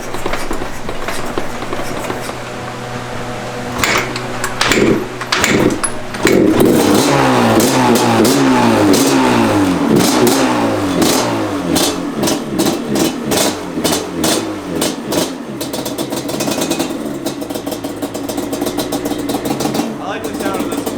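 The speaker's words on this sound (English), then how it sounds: "I haven't started this bike in a minute." A motorcycle fitted with Toomey pipes starts up and revs, its engine churning loudly and steadily with rising and falling pulses throughout, with speech mixed in.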